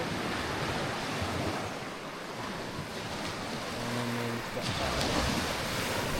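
Steady wash of surf and wind rushing across the microphone, with a faint voice briefly underneath, on a rainy day at the sea.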